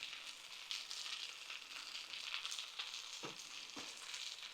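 Sausages frying in a pan, a steady faint sizzle and crackle with a few light clicks of the pan being handled, no voices.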